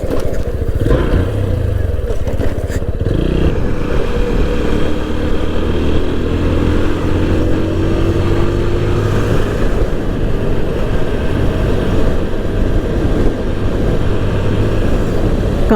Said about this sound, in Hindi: I am riding bike.